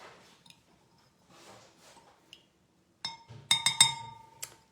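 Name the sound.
spoon stirring sugar until dissolved in a bowl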